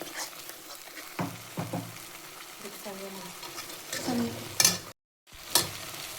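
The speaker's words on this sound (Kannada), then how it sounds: "ಫೈನ್ ಪೇಸ್ಟ್ ಆದಮೇಲೆ ಅದನ್ನು ಬಾಣಲಿಗೆ ಹಾಕಿ ಫ್ರೈ ಮಾಡಿ" Tomato masala paste being fried and stirred in a pan over medium heat, with a soft sizzle and intermittent scraping strokes of a spoon, plus a few louder clatters near the end.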